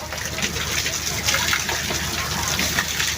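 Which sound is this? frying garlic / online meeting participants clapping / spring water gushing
spring water gushing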